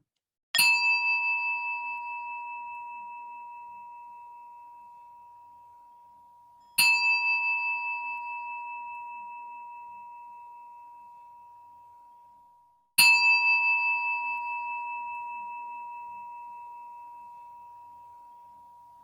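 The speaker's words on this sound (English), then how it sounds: "I'll try ringing a bell, but apparently the bell doesn't really work terribly well on these things" A meditation bell struck three times at slow, even intervals, each clear ring sustaining and fading gradually into silence, heard alone in a quiet room.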